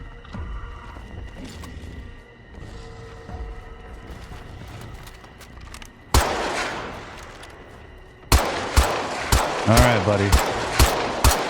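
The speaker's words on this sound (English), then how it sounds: "Pistols are not effective. I'm just shooting him because I can." Pistol shots ring out in State of Decay 3 gameplay: a sharp crack lands midway, then a run of rapid, evenly spaced loud shots follows. Someone speaks briefly before the firing.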